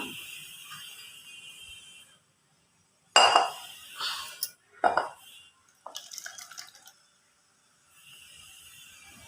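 Clinking of dishes and a spoon against a bowl as cooked sago is transferred into it, in a few separate bursts with quiet pauses between them.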